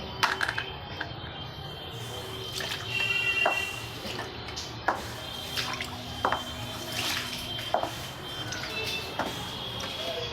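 Water being pushed and swept off a flooded home balcony, with splashy scrapes and drips recurring in short bursts over a faint background, close and fairly quiet.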